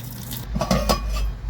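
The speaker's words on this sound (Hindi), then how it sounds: "मैं मैनुअल तरीके से इसके ऊपर ढक्कन रख कर इसका पानी निकालूंगा।" Water is drained from cooked rice for mutton biryani by holding a pot lid over the pot, giving metal clinks and scrapes with a brief sizzling, splashing pour, close and fairly loud.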